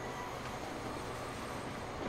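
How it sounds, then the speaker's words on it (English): A train runs in the video game Transport Fever during a race, giving a steady, even mechanical hum and rolling noise at moderate level with no speech over it. "Spanish train needs to get a move on."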